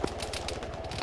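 Rapid gunfire in an Arma military game, a fast even rattle of shots filling the brief moment at moderate loudness.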